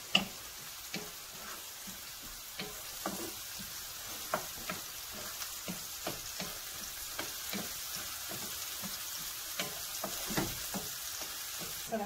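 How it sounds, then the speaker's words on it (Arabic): Onions fry in hot oil in a home kitchen, making a continuous soft sizzle. Irregular scraping taps from stirring recur every second or so, close by, with no talk. "نحمس البصل."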